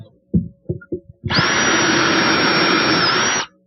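Power driver sinking screws into wooden shelves of a painted corner hutch, a loud steady whine lasting about two seconds after a few short knocks and taps of positioning, close up with no talk.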